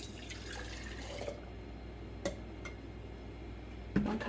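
Water poured into a measuring cup for refrigerator pickle brine in a home kitchen: a brief, soft rush of liquid, then a few faint drips and small clinks, quiet and close.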